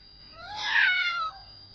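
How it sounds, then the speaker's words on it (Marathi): A single drawn-out meow from a black cat, fairly close and clear, rising then fading over about a second in a quiet room. "खिडकीवर बसलेला काळं मांजर म्याव करून उठून गेलं"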